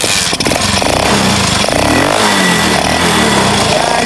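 A Rusi 110cc motorcycle engine fitted with a 100cc carburetor runs loud and close with a rough, buzzing revving note over a few seconds.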